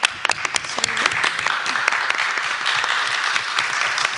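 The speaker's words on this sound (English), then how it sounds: "Clap for her one more time." A Liberian audience in Grand Gedeh County applauds a woman's presentation, with some sharp claps first, then a thick, steady round of clapping held for several seconds at fair loudness.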